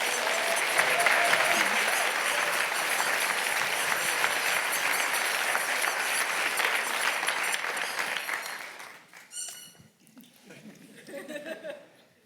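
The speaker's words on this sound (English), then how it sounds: "please erupt with applause for Dr. Evgenia Ilyinskaya" Audience at a live evening lecture event breaking into loud, sustained applause that lasts around eight seconds, then thins to scattered claps with a little laughter and murmuring before fading out.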